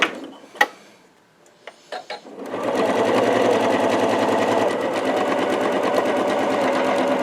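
An APQS sewing machine stitches face masks with ties: a few sharp clicks, then a sustained, even, close-up mechanical whir of rapid stitching running to the end.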